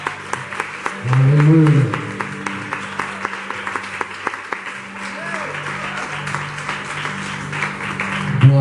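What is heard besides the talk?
congregation applauding the worship group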